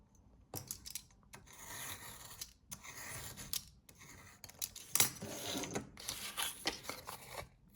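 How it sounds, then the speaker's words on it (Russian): Excess cardboard is trimmed from two stacked side walls of a handmade Christmas house, with repeated close, scratchy snips and rasping cuts in short bursts separated by brief pauses. "Складываю сразу 2 боковинки и лишнее обрезаю."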